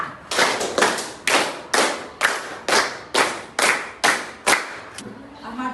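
A class of students claps out a rhythm together in a school maths lesson, about a dozen sharp, unison claps in a steady even beat, loud and close, each ending crisply, with a short lull near the close.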